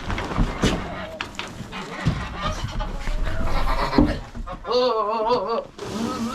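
Goats bleating on a small farm in winter, wavering cries near the end following rustling and handling noise, with people talking close by.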